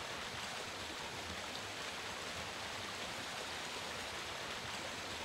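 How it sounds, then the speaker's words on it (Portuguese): Running water of a stream in the Resident Evil 1 video game, a steady broadband rushing wash that holds constant throughout, moderately quiet with no talking. "A água corre logo abaixo, no outro lado."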